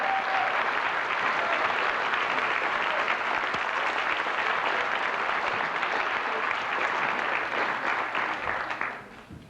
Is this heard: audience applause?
yes